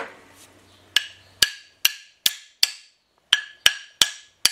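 A hammer taps a small steel wedge against an engine piston on a Willys engine, about ten sharp, ringing metallic strikes in two quick groups with brief gaps, close and loud.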